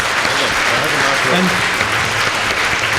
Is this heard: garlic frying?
no